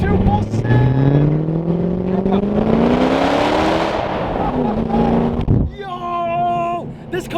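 A Ford GT with a straight-piped FI exhaust roars loudly and close by, its engine note sweeping upward through long rising pulls before cutting sharply. A voice speaks over the end.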